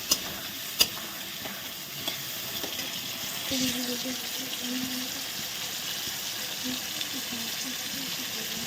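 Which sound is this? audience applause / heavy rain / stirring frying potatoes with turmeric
stirring frying potatoes with turmeric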